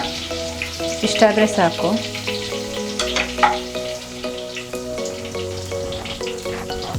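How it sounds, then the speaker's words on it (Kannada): Green chillies fry in hot oil in a home kitchen during a dhaba-style paneer masala, a steady close sizzle running under background music, with a brief spoken line. "ಹಸಿಮೆಣಸಿನ್ಕಾಯಿ ಹಾಕಿದ್ದೀನಿ. ಫ್ರೈ ಮಾಡ್ಕೊತೀನಿ."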